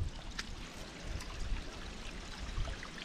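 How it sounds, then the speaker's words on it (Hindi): Water streaming steadily through a hidden spot in the Aravalli hills, a constant low rushing wash with faint trickling, steady and moderately close throughout. "कंटिन्यू पानी चल रहा है।"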